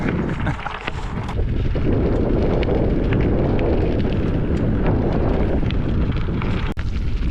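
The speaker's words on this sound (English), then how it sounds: "There's a little bit of northwest wind in the marina" Steady wind blowing through a marina in a northwest breeze, a loud continuous rumbling roar buffeting the microphone with no voices.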